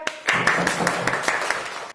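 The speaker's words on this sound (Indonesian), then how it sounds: "Tepuk tangan buat kalian." A classroom of schoolchildren clapping in applause, a dense burst of many hands starting sharply and running for about two seconds before stopping abruptly, close and fairly loud.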